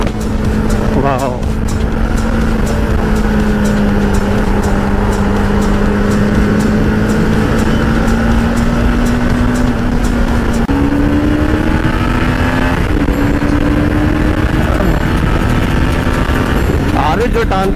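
A motorcycle engine, a Pulsar RS200 or Apache RR310, drones loudly and continuously as it climbs steadily in pitch under acceleration, with strong wind rush over the ride and a rider's voice talking intermittently.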